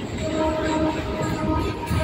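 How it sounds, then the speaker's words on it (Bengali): A Kolkata Circular Railway train pulls into Khidirpur station with a steady, loud rumble of wheels and carriages and a sustained horn-like tone running through it, with no voices. "আমাদের ট্রেন এখন চলে আসলো এই জার্নির পরবর্তী স্টেশন খিদিরপুর"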